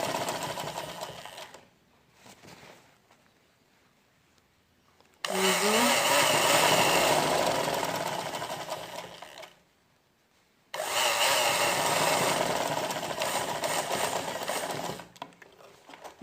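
A sewing machine stitches a seam in fabric in two long, loud, steady whirring runs, separated by a quiet pause and a brief start-up, close to the listener.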